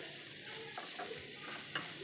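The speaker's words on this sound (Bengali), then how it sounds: "আর এখানে চালটাকে আমি হালকা ভাজা ভাজা করে নিচ্ছি" Drained, soaked basmati rice being fried with vegetables in a pan for pulao, giving a soft, steady sizzle with occasional stirring scrapes, close and moderately quiet throughout.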